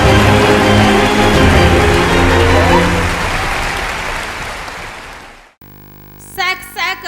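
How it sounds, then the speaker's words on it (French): A church congregation applauds loudly and steadily, with cheering mixed in, the clapping fading over several seconds before cutting off; voices follow after a brief pause. "Acclame très fort pour Jésus."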